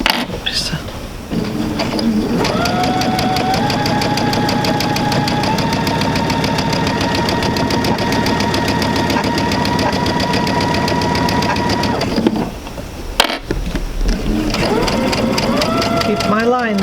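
A sewing machine stitching a sampler, running in a long steady whir for about ten seconds, with shorter bursts of stitching before and after, close and loud, with brief quiet speech between runs.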